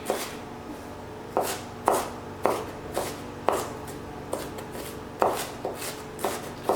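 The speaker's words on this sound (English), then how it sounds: "I'm going to chop this up pretty fine so that as people bite into it, they're not taking a big bite of red onion" A knife chops a red onion on a cutting board in about a dozen crisp, evenly spaced strikes, close and fairly quiet, with no talking.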